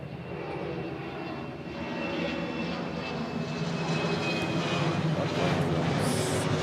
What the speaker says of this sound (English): This 717 is heading off to Maui.